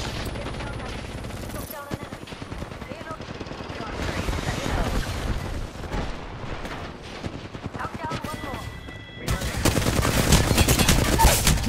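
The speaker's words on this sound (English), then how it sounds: "I'm taking fire" Loud, sustained gunfire in a round of Apex Legends Arenas, with rapid bursts and overlapping shots that rattle on almost without pause and swell near the end, while voices talk faintly underneath.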